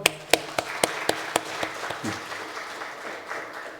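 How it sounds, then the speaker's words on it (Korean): A church congregation claps to welcome a new accompanist, starting with a few sharp, distinct claps that soon blur into a softer, fading patter. "박수로 환영하겠습니다"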